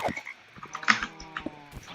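A video-game frog in a Minecraft One Block map croaks repeatedly in short, uneven bursts, fairly quiet and with nothing else around it.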